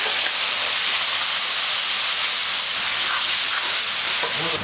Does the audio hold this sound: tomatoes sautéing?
yes